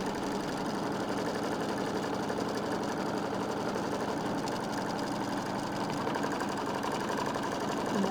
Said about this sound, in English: So we'll sew the batting down.